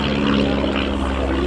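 A pair of Chipmunk light propeller aeroplanes fly a crossing break at an airshow, a loud, steady buzzing drone with a rising tone near the end, close and continuous.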